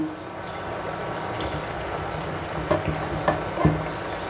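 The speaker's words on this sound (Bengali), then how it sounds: "এ পর্যায়ে আমি দিয়ে দিচ্ছি কাঁচা আম," Raw mango pieces added to fish simmering in a curry pot, a soft steady sizzle and bubble with a few sharp clinks and knocks of pieces and a utensil against the pot near the end.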